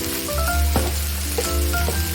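Batter made from leftover roti roasting in a hot pan, a close, steady sizzle with faint stirring scrapes and brief tonal squeaks of the spoon against the pan.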